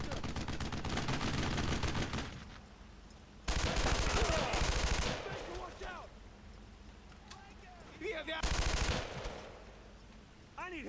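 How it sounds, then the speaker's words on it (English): Bursts of automatic gunfire in the WWII shooter Brothers in Arms: Road to Hill 30 come in three loud volleys separated by quieter stretches, with voices talking in between. "heavy fire on that tank now!"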